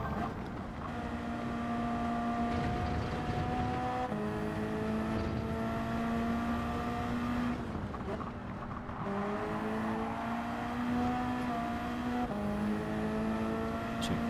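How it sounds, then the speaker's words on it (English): A Ford Mustang race car at full throttle in Gran Turismo 7 at Brands Hatch, its engine droning steadily and climbing in pitch through repeated gear shifts, loud and continuous, with occasional speech underneath. "this is where the Mustang is going to start to gain down this straight"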